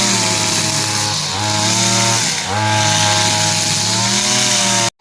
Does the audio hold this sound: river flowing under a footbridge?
no